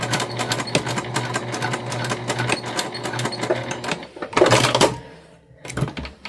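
A sewing machine runs in fast rhythmic bursts while backstitching fabric for a quilted fabric basket, loud and close, then pauses for a few short stops and restarts near the end, with no talk.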